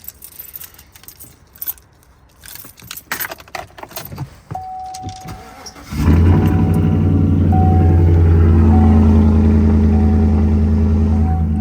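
A Chevy Silverado with a Borla ATAK exhaust and 109k miles cranks and fires after keys jangle. It then settles into a loud, deep, steady idle that rumbles close by, with no talking.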